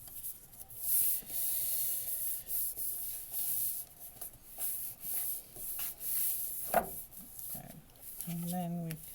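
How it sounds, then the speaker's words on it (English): Someone burnishes a paper fold on a handmade mini stamp album with soft, repeated rubbing strokes. The strokes are faint and close, with a brief voice near the end. "And then we can burnish our fold"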